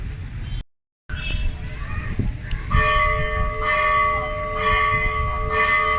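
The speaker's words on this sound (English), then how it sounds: "For whom the bell tolls." A church bell tolls at St. Sebastian church in Negombo, Sri Lanka, its ringing tones sustained and layered over a noisy outdoor background after a brief cut to silence.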